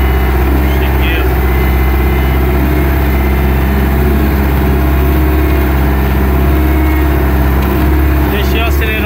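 An adapted Caterpillar mini loader with a Perkins engine runs at low throttle in Minas Gerais, producing a loud, steady, low diesel drone throughout, with voices faintly audible over it.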